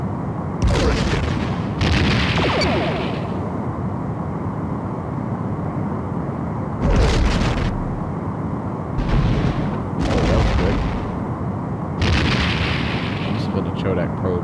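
Torpedo impacts in the 1995 Star Trek: The Next Generation – A Final Unity game, heavy booming bursts recurring every few seconds over a constant low spaceship drone, with game voices speaking between the blasts.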